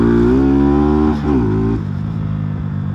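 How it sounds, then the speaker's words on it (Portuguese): A Honda Titan 150 carbureted motorcycle fitted with an SFX F-22 exhaust revs loudly and close up, holding a steady drone before the revs dip and settle back to a lower idle. "Pega essa moto e nós acelera."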